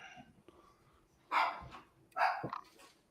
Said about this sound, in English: Just a dog.